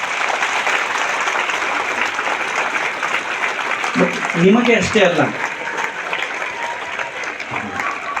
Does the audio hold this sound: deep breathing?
no